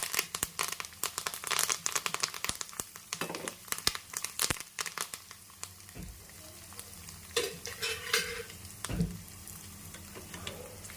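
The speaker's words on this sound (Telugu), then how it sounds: "జీలకర్ర, ఆవాలు, ఎండుమిర్చి, కరివేపాకు వేసుకున్నాం." Cumin, mustard seeds, dried red chillies and curry leaves crackle and sputter in hot oil for a tempering for gongura dal, a close, busy patter of pops with stirring scrapes and no voices.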